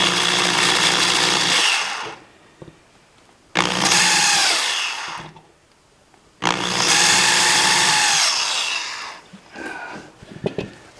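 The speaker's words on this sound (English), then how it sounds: "Take the drill with the 1/8 inch bit." A power drill with a 1/8 inch bit whirs loudly in three separate bursts drilling a steel magazine, each a high whine lasting a couple of seconds, with quiet pauses between.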